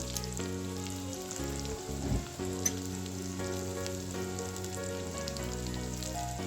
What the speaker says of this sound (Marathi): कांदा छान गुलाबी होईपर्यंत परतून घ्यायचा आहे